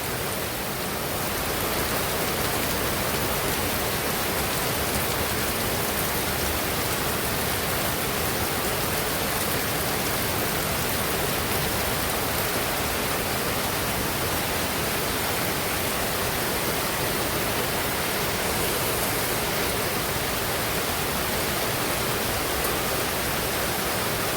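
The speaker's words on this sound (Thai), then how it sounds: "วันลอยกระทงฮะฝนตกแรงมากครับ" Heavy rain pours down steadily in Chonburi, Thailand, a dense, unbroken hiss of downpour on surfaces that stays loud and even throughout.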